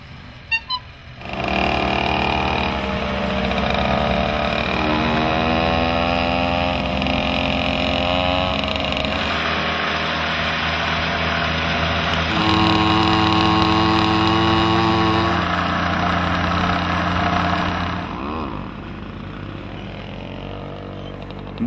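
A moped running while riding on a long trip, a steady buzzing two-stroke engine drone that rises and falls in pitch as it shifts through speeds, loud and continuous under wind noise.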